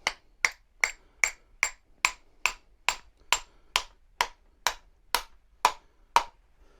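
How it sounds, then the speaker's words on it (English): A hammer taps a water pump shaft through its seal during a pump rebuild, about fourteen sharp, evenly spaced metallic knocks ringing close and fairly loud, with no talking. "a little bit of a tap with a hammer."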